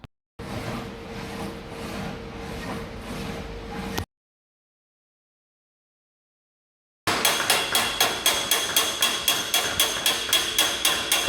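A metal car fender being hammered smooth to take out bumps and irregularities, heard as a steady rapid run of strikes, a silent gap, then a loud close rhythmic series of blows.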